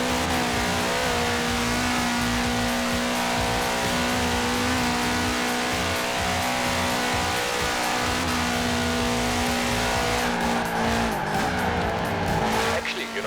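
A car in Forza Horizon 4 accelerates hard with a loud, sustained engine roar that holds steady, then tires squeal and skid near the end.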